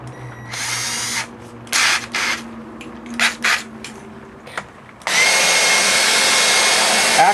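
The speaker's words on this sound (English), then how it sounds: "Let's put it in the drill and try it." An electric drill whirs in several short bursts, then runs continuously and loudly with a high grinding tone as the bit cuts metal.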